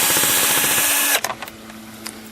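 A power drill whines steadily as it drives into the plastic of a Husqvarna 455 chainsaw at full speed, then cuts off abruptly after about a second, leaving only faint clicks and handling noise.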